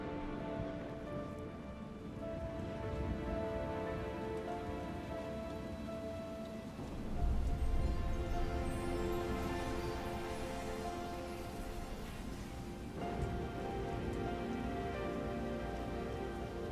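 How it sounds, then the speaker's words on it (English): Rain falling steadily in the video game Shadow Warrior (2013), a dense continuous patter that swells louder for a few seconds midway, with a faint tonal background and no talking. "and the rains return"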